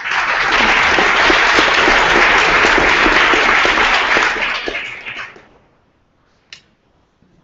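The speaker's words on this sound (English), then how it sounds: "So let's give a round of applause." Loud, dense applause from a panel audience at a virtual reality expo, sustained for about five seconds before fading to near silence, with a lone later clap.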